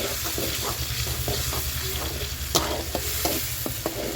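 Onions and tomato paste frying in a pan for a chicken gravy curry, stirred continuously, with a steady loud sizzle and a rhythm of close spoon scrapes and light taps against the pan.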